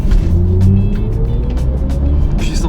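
A BMW i4 M50 electric car pulls away hard, its rising synthetic drive tone climbing smoothly in pitch over a low road rumble, loud and close for a few seconds with no talking.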